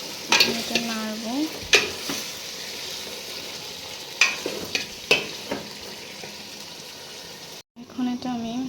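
Beef frying in a pan with salt and turmeric being stirred, scattered scrapes and clinks over a soft sizzle, with a voice talking in between.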